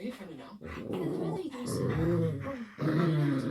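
Several dogs growl and grumble while playing together, with low rumbling growls running almost continuously over a few seconds. A person's voice is heard talking alongside them.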